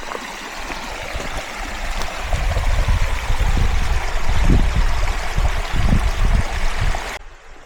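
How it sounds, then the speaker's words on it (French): A small mountain stream beside a trail flows continuously with a steady close rush and low gurgling swells, alone with no voices. "Un petit ruisseau."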